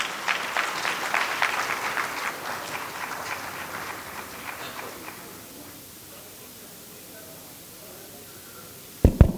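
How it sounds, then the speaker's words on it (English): An audience at a professional tax and compliance event applauds loudly, the clapping thinning out over several seconds and fading into quiet room sound, with a brief sharp knock or thump near the end. "Can I have a huge round of applause for CA Atish Shah?"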